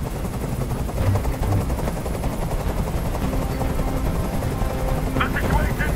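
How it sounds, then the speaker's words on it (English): A helicopter's rotor thump and engine drone fill a video game scene, with scattered gunfire-like bursts and game effects layered over a steady roar. "Can't stand that noise anymore! Tell that helicopter to get out of here!"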